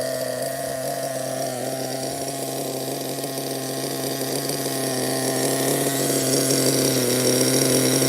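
A vintage RC model engine runs steadily at a high, buzzing pitch, a loud, continuous drone that grows slightly stronger toward the end, with no talking.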